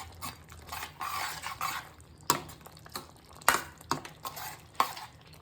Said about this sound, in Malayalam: ഇവിടെ ഇത് നമുക്ക് ഇളക്കാം